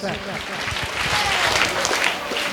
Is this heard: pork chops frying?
no